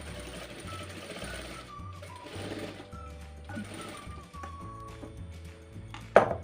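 A sewing machine stitches T-shirt fabric for an upcycling project, with rhythmic mechanical chugging in several bursts, a thin whine between runs and a sharp click at the end, no talk.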